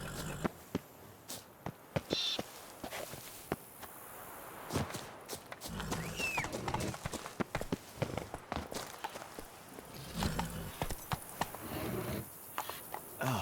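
Roach, the horse in The Witcher 3: Blood and Wine, gallops with rapid irregular hoof clops, scattered sharp impacts over a busy game soundscape, fairly close and moderately loud.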